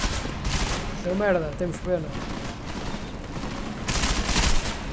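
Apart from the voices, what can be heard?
gunfire in video game Deus Ex: Mankind Divided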